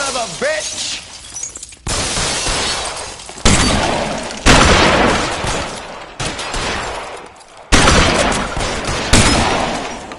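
Gunfire in a shootout from L.A. Noire: heavy, loud bursts of shots and booms come in several sudden blasts, with shouting voices in the mix.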